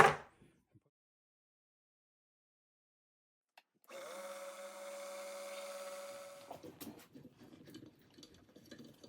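A drill whines as it spot drills holes in a metal engine cylinder head for a couple of seconds, then winds down into scattered clicks and scraping, after a brief knock and silence.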